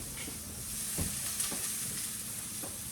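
Steady, close sizzling and frying hiss as green beans hit a hot pan with shallot on a new stovetop, with a few soft stirring knocks and no talk.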